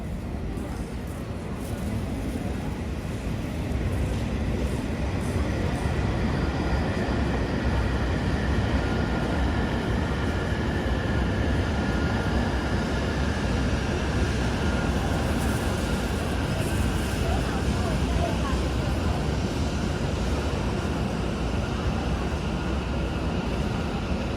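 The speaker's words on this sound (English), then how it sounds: "Oh, there comes the train rolling in." A steady, loud rumble of a Shinkansen train rolling into Echigo-Yuzawa Station, Japan, with a continuous low roar and faint high squeals, lasting throughout without pause.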